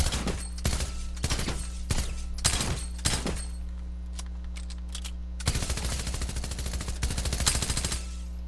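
Fortnite's new machine pistol fires in short rapid bursts of about four rounds, then pauses before a longer sustained stream of fire, loud and close.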